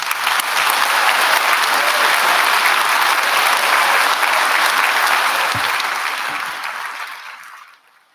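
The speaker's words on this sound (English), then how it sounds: "And we give that group a round of applause." A large audience at a graduation ceremony applauds a group of graduates, a dense sustained wash of clapping that holds steady and then fades out toward the end.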